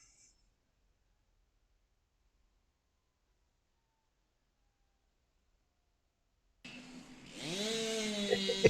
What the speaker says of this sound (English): And you hear the chainsaw.